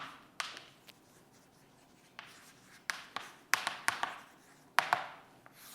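A pen or marker writes during an English grammar lesson, producing faint, scattered taps and short scratchy strokes in an otherwise quiet room, with no voices.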